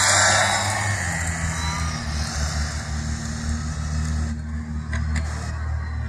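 An Arrma Infraction 4x4 RC car runs at full throttle, its electric motor giving a continuous high whine with a low droning hum, steady and fairly distant outdoors.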